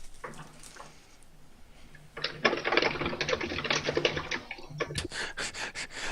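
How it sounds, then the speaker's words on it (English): Rapid, loud clatter of a computer keyboard being typed on, bursts of dense keystrokes building after a quieter start and continuing steadily, with no talk over it. "loudest typing in the northern hemisphere"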